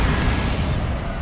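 Bombarda spell explosion in Hogwarts Legacy: a dense, loud, sustained blast with rumbling low-end debris, close and unbroken, no voices.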